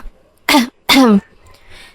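Two short, throaty coughs in quick succession, close and loud, followed by quiet.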